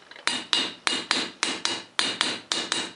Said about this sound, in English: Now you can drive them in with a hammer like this.